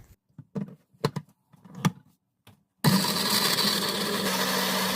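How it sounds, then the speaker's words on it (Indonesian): A kitchen blender switches on abruptly and grinds chili spice paste with a little added water, a loud steady whir that follows a few scattered knocks and clatters. "Nah, ini kita blender dulu ya."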